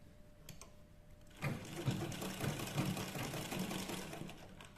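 A sewing machine top-stitches the neckline of a trendy top, starting after a quiet moment and then running in one continuous, steady mechanical whir to the end.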